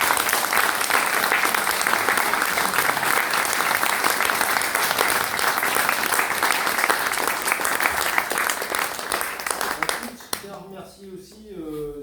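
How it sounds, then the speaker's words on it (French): A theater audience at a union event breaks into sustained, dense applause for the stage crew, loud and steady for about ten seconds before trailing off as a voice begins speaking. "Donc je tiens vraiment absolument à ce qu'on puisse les applaudir."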